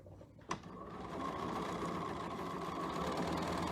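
After a brief click, a sewing machine starts and stitches continuously on fabric, a close, even motor hum with rapid needle chatter, no voices.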